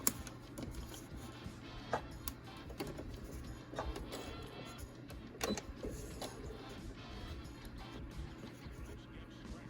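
A sewing machine stitches along the teeth of a zipper for a vintage skirt pattern, a soft, quiet mechanical whirr broken by faint clicks and brief pauses, running steadily with no talking.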